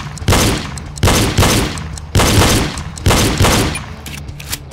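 Gunfire from the PC shooter game Reload comes in loud, sharp bursts, about six volleys at roughly one-second intervals, each decaying quickly, with no speech over them.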